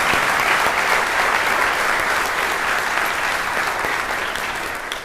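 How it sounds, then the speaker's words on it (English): An audience at a fall welcome address claps in a sustained, dense round of applause that fills the room, slowly tapering toward the end. "let's give them another round of applause"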